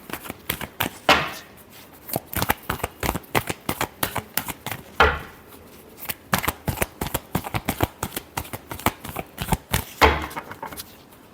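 Tarot cards shuffled by hand in a run of quick riffling bursts, each a crisp fluttering rattle with short pauses between, close and fairly loud, with no talking.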